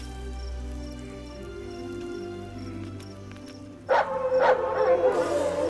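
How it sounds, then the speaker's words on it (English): Dogs in the 1988 film Willow give a few sharp, close barks and yelps over an orchestral score, the barking bursting in near the end above the sustained music. "You gotta run, those dogs are caught up to you."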